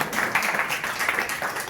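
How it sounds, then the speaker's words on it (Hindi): An audience at a religious discourse in Pune claps together in a dense, continuous patter of applause, moderately loud and slightly distant, with no talking over it. "अपने लिए ताली तो बजा लो कम से कम।"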